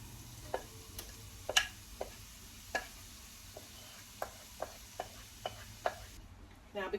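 Zucchini going into hot oil in a home kitchen pan, giving a quiet frying hiss with a string of sharp little pops and crackles at irregular intervals, fairly faint and with no talking.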